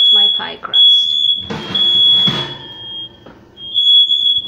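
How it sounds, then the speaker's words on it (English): A smoke detector, set off by an overcooked pie crust, emits a continuous piercing high-pitched beep, loud and close, while a person talks over it. "as you hear by the smoke detector, I have slightly overcooked my pie crust."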